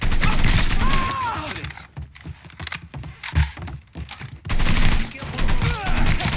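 Gunfire in the video game Mafia 3 crackles in dense, loud bursts at the start and end, with scattered single shots between them, under a player's talk.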